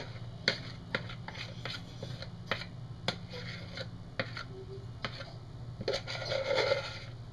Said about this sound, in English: I like all that juice in there, so I'm going to scrape my bowl here.